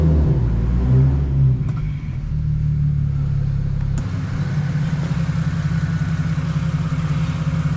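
A single-turbo BMW 335i with an N54 engine runs in reverse at low speed, its steady deep engine rumble and idle hum continuous and close throughout, with no talking.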